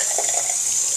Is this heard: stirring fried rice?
no